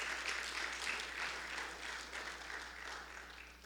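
A church congregation claps in welcome, a dense, fairly faint wash of many hands applauding steadily and tapering off slightly, heard from a distance in a large room.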